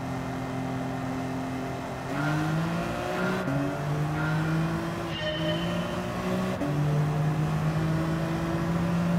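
A BMW M3 racing in Gran Turismo 7, its engine note rising and shifting through gears in steady tonal sweeps, loud and continuous with no talk over it.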